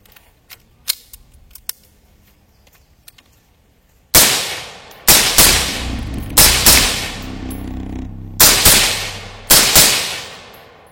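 A suppressed rifle with a 7.5-inch barrel fires roughly seven sharp, loud shots at irregular intervals, each with a short decaying tail, after a few seconds of faint handling clicks.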